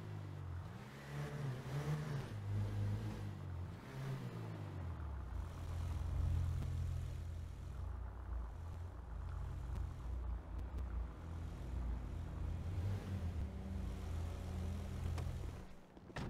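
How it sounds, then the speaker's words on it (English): A low, steady car engine hum idles continuously in a video game, with slight shifts in pitch early on, moderately quiet and without voices. "the hums of the cars, like when they're just sitting still and the engine's running"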